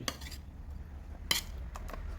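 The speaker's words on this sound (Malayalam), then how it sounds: "ഇത് നോൺ സ്റ്റിക്ക് പാത്രം അല്ല കേട്ടോ, അതുകൊണ്ടാണ് ഈ സ്പൂൺ ഇടുന്നത്." A metal spoon knocks against a plain, non-non-stick cooking pot, giving a few faint, sharp clinks spread over two seconds in a quiet kitchen.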